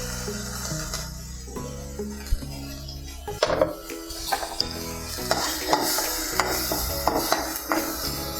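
Chopped capsicum sizzles in a pan with turmeric while a spoon stirs and scrapes against the metal, producing repeated clinks and knocks over a steady frying hiss, close and fairly loud.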